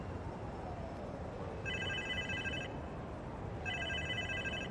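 A phone rings nearby in the Marvel's Spider-Man 2 video game: two bursts of electronic ringing tone over a constant low rumble of background noise.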